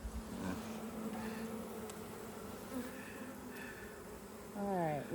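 Honeybees hum at a hive in South Carolina on an overcast morning, a dense, soft, continuous buzz with individual bees droning closer at moments and a sharper near buzz at the end.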